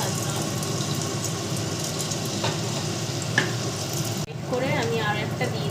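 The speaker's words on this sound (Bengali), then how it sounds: "তেলটা গরম হয়ে গেছে, এবার আমি ব্যাটারটা দিচ্ছি।" Malpua batter fries in hot oil in a small wok with a steady, loud sizzle. The crackle shifts briefly near the end as more batter goes in.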